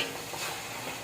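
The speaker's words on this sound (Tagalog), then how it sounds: "So, prito-prito pa natin siya ng konti." Meat fries in its own rendered fat with extra pork fat in a pan for pancit kapampangan, a soft, steady sizzle with some stirring, faint and close, with no voices.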